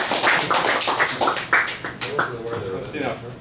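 A small group claps in a loose, uneven rhythm, close and moderately loud, with people talking over the claps throughout.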